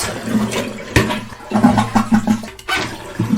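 A toilet flushes to drain its tank during a Fluidmaster 400A fill valve replacement, a loud, close rush of gurgling water with sloshing surges and a brief lull near the end.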